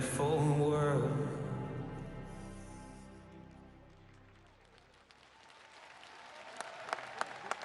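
Singing gives way to an arena crowd at an ice dance free dance competition clapping steadily, the applause swelling gradually with a few sharper claps standing out near the end.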